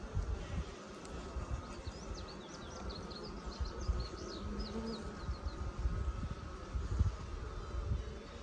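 Honeybees humming steadily around an open hive during an inspection, a dense close drone with birds chirping faintly in the distance.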